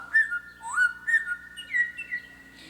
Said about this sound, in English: He's whistling a song.